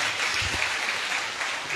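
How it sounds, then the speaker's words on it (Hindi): A congregation at a church service claps in steady, dense applause that fills the whole moment at an even level, with no voices standing out. "एक ताली बजाओ और एक बार यीशु मसीह के लिए जोर से"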